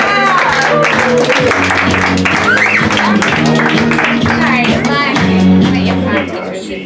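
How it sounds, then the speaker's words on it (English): An audience at a live improv comedy show claps steadily for several seconds, dense and loud in a room, tapering at the end. "Everyone, please give a round of applause for Aaron Jacob."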